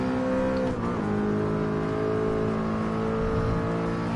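Engine of an older Audi R8 in the Gran Turismo Sport racing game, a steady sustained drone with strong harmonics and a brief dip in pitch near the start, loud and continuous with no talking.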